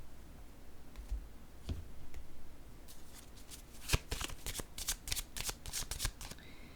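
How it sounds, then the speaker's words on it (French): Tarot cards are laid down and then shuffled close by. Soft slides come first, followed by a rapid burst of crisp riffling and card flicks, quiet and with no talking. "Je vais déposer une autre carte ici."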